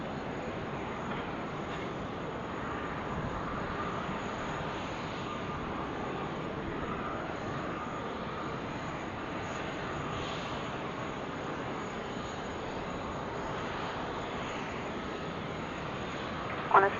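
An airliner landing on runway 16 right at Sydney Airport, a steady broad engine roar held at moderate distance for the whole stretch without any rise or break.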